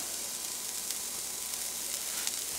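Vegetables sauté in a hot pan for oats upma, giving a steady, close sizzle with faint scraping ticks from stirring throughout.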